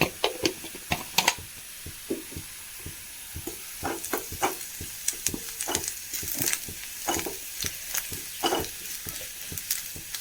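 Crushed chili sizzles with sautéed onions in a pan for a jackfruit seed and dry prawn curry: a steady close frying hiss punctuated by frequent clicking scrapes of a spoon stirring against the pan.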